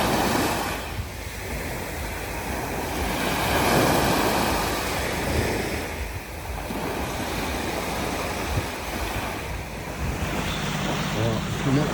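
Steady wash of calm Mediterranean waves breaking on an empty beach, rising and falling in soft surges with a light breeze across the microphone.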